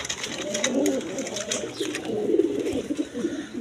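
A pair of Gorra pigeons cooing nearby in repeated soft, throaty phrases, with light rustling and clicks between the calls.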